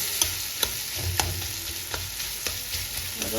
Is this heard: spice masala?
yes